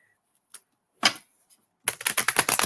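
Tarot cards being shuffled: a few isolated papery taps, then a quick rapid riffle of flicking cards, close and crisp, with no talking.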